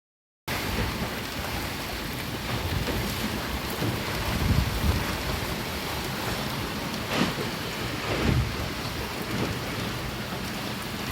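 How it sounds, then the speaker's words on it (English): Steady rain beats down on a sailing boat offshore in grey, wet conditions during a Cowes to St Malo race, a dense continuous hiss with a few louder spatters and gusts, no voices. "And it's now started raining."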